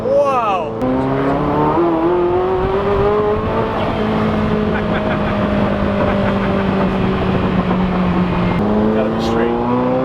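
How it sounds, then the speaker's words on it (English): Lamborghini Centenario Roadster revving hard in the early morning, a loud sustained engine howl with rising and falling pitch, turbo whoosh and exhaust pops, while someone talks over it. "I don't know if you guys can hear the turbos, and now you can hear it pop"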